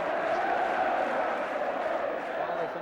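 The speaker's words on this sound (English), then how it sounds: "And the crowd are really rising to them." Football crowd at a Chelsea match, a broad continuous roar of cheering voices filling the stands, steady and moderately loud throughout, with a commentator's voice running over it.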